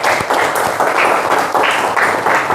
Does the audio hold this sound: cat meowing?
no